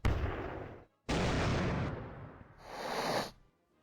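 Artillery bombardment in the WW2 hex turn-based game Armchair Commander: three loud, roaring blasts in succession, each a sustained rumbling burst separated by short silences.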